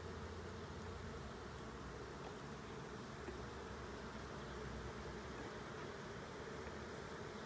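Honey bees swarm around an open hive during a hive inspection, making a continuous soft, dense buzzing drone that stays even and faint throughout.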